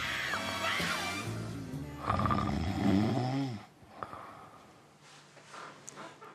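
A woman snores heavily and close by, with a couple of long rasping, rumbling inhalations followed by quieter breathy exhalations, heard alone.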